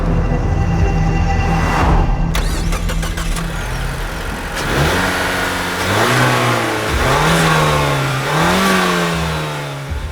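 A Mazda3 Turbo hot hatch with all-wheel drive launches in a drag race. Its engine roars loud and close, climbing through revs with distinct gear shifts as it pulls hard.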